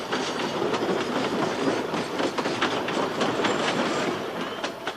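A train runs along the railway through the Cusichaca valley in Peru, beside the Urubamba river. It gives a steady, fairly close rumble with clattering wheels for the whole stretch, and no one speaks.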